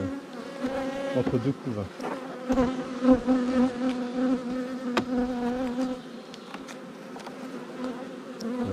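Dense, steady buzzing of many honeybees close by at an open hive during queen introduction, with brief quiet speech in French partly under the hum.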